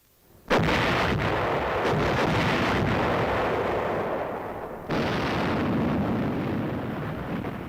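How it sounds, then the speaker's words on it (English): Artillery fire directed by an aerial observer lands as a single loud boom that rolls into a long rumble, followed by a second blast partway through, heavy and continuous with no voice. "Artillery batteries with an aerial observer to direct their fire have developed a high degree of accuracy."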